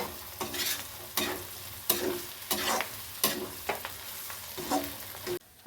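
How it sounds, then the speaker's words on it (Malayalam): Spiced beef fry is stirred in hot oil, a sizzling base broken by about eight rhythmic bursts of scraping and tossing, each stroke roughly every half second to second, close and fairly loud, with no talk. "നന്നായിട്ട് ഇത് ഇളക്കി ബീഫിൻ്റെ എല്ലാ ഭാഗത്തേക്കും പൊടികൾ എത്തക്ക വിധം"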